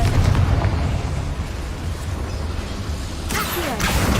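Rumbling explosion from a Confringo spell in the Hogwarts Legacy video game inside a small mine, a loud low boom that swells at once and fades over several seconds with a faint crackle near the end.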